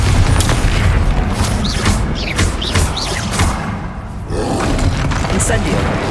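Bombarda explosion spell blasts in Hogwarts Legacy, loud booming bursts and roaring rumbles over dense game effects, with a voice shouting spell names.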